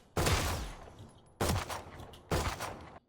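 Three loud pistol shots in the tactical shooter Valorant, evenly spaced about a second apart, each a sharp crack followed by a short decaying tail, with no talk.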